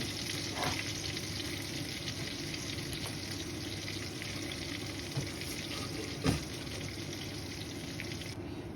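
Bay leaf, cinnamon, cloves and cardamom sizzle in hot oil in a cooking pot, a steady close frying crackle throughout with a couple of soft clinks, no talking.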